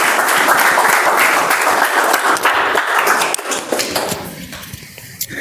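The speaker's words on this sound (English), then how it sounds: "with a big round of applause, welcome Toastmaster Akshay" Loud, dense clapping from an audience at a Toastmasters club meeting welcoming the next speaker, sustained for several seconds before tapering off.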